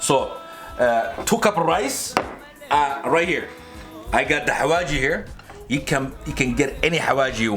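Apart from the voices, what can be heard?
No everyday noises stand out.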